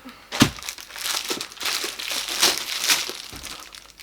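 Plastic crinkles and tears in several rough bursts as a wrapper is pulled and ripped off, close up and fairly quiet.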